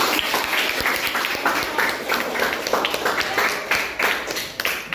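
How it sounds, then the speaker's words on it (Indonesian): Classroom applause for a student group, steady dense clapping from many hands sustained for the full stretch, fairly loud and close with a busy crackling texture and no clear pauses. "untuk kelompok Mutar Lubis kita berikan aplaus"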